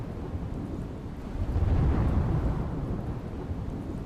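Heavy downpour in the villages of Lathi, Amreli, Gujarat: a dense wash of rain with a low rolling thunder swelling midway then fading, no voices.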